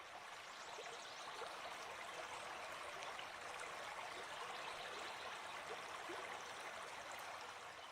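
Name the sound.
calm flowing river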